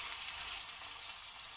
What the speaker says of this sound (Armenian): Այսպես արդեն ջրքանված սմբուկները կսկսենք տապակել։